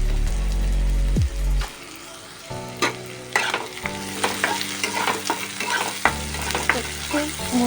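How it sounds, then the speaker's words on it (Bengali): Sliced onions sizzle and fry in a pan for a Bengali latiya fish dish, with repeated scraping and stirring strokes and a sprinkle of salt, loud, close and steady, with no talking. "একটু ভাজা ভাজা করে নিই। এর মধ্যে একটু লবণ ছড়িয়ে দেবো পেঁয়াজের মধ্যে।"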